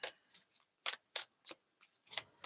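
Tarot cards are shuffled in a series of crisp, riffling bursts, about eight short flutters separated by brief pauses, close and fairly quiet with no talking.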